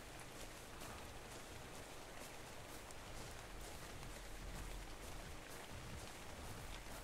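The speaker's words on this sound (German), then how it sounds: "Es regnet." Steady, fairly quiet rain hiss with soft patter on a beach in the video game ARK, continuous and even throughout, no voices.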